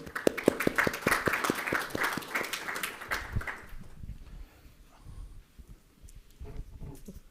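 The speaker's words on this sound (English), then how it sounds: "Round of applause for him." Audience at the LIBF Expo 2026 launch in Mumbai claps for a guest professor, a fairly close burst of applause for about three seconds that quickly tapers off into a quiet, murmuring room.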